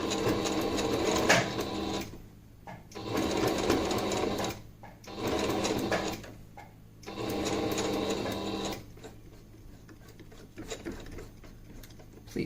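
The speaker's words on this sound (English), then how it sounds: "So your sewing may end up taking a little turn when you're on your pleats." A sewing machine stitches the pleats of a face mask, running in several close, steady bursts separated by short pauses, with a longer quieter stretch near the end.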